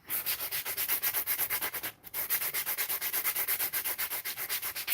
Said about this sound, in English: Oh, I'm sanding spoons